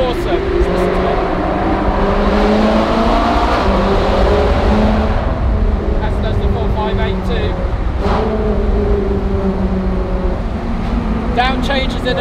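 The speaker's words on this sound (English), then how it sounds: "The GT3 sounds bloody awesome." Porsche GT3 engine echoing through a mountain tunnel in Italy, loud and close with revving and downshifts while other cars roar nearby, and people talking over it.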